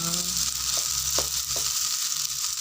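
Steady sizzling of Javanese fried rice (nasi goreng Jawa) frying in a pan, a dense continuous hiss with a few soft stirring taps, close and without talk.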